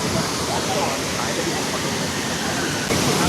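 Waterfall at Netta view point near Chittar dam, heard as a steady, dense roar of falling water, loud and close, holding unchanged through the clip.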